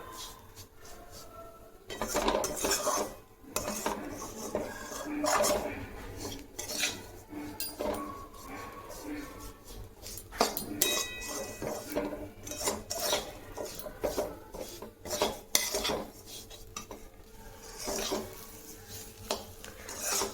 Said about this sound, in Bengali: দেখো লাল করে ভেজে নিচ্ছি সুজিটাকেও